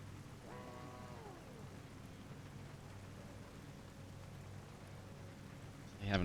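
Steady rain hisses over the Donington Park track in iRacing as Supercars sit stationary on a wet grid, a continuous soft wash with a faint tonal whine passing early on and a brief louder burst at the very end.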